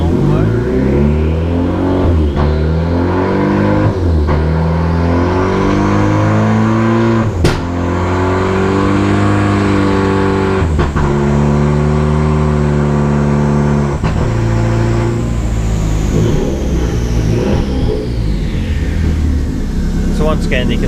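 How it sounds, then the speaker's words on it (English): A Renault Clio 4 RS engine runs on a dyno with no real load, revving loud and steady as gears shift up and down with sharp breaks between shifts, while someone talks over it. "we're actually running this on dyno, so there's no real load, which is why it struggles with a couple of downshifts"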